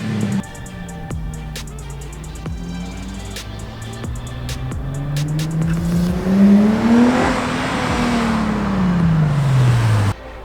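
Nissan G35/350Z V6 with an ISR Performance single GT exhaust revving loudly from idle, the pitch climbing through several sustained pulls to a high peak, then dropping off sharply, heard up close with no talking.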